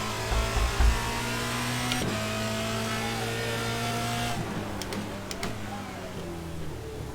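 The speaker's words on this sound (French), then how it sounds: "C'est un moteur de Clio. Donc il est pas très puissant, mais la voiture est légère, donc ça va assez vite." Clio race car engine in a sim racing game, a steady droning engine tone that shifts pitch with gear changes, heard at moderate level throughout.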